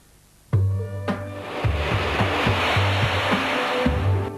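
Air France Concorde jet engines at takeoff burst into a loud, continuous roar after a brief quiet moment and hold steady, close and powerful, with no talk.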